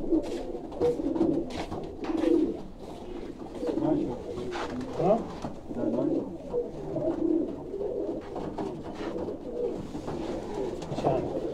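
Pigeons of the Sialkot Batera breed coo repeatedly in low rolling bursts close by, a flock calling on and off throughout under intermittent human talk.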